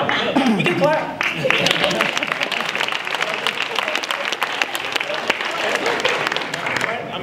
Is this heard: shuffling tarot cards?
no